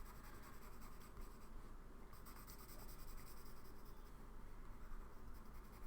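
Pencil on paper shading dark areas of a drawing produces a very quiet, continuous scratchy rubbing, with soft strokes repeating steadily and close up.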